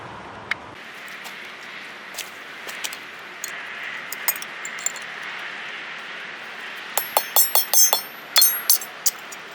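A hammer strikes hot metal to set a rivet on a candle holder, with sparse taps at first and then a rapid run of ringing metallic blows near the end, under a low background hiss.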